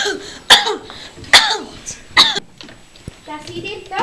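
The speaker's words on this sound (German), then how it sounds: "Dann fing er gräßlich an zu husten." A boy coughs hard three times in harsh, rasping bursts about a second apart, then strains and wheezes faintly before a quieter gasp at the end.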